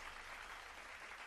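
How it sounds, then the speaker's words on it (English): Applause for a guest on a live hockey podcast, heard as a steady, even wash of clapping that runs throughout at a fairly faint level, with no clear voices over it. "Round of applause for you for being here."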